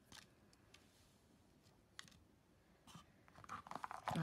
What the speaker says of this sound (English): I'll take it out of its packaging